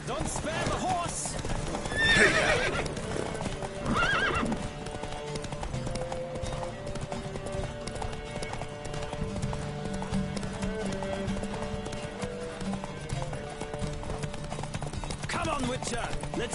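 Horses gallop hard in a race inside The Witcher 3, hooves clip-clopping in a steady rapid rhythm with occasional whinnies, all under game music and riders' shouted voices.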